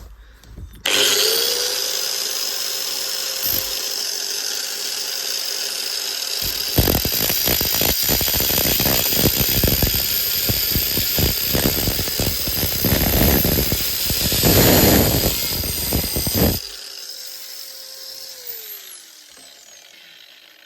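A homemade pike fishing lure clamped in a vise is cut with about ten seconds of loud, rough rasping over a steady high whine that continues before and after the cut.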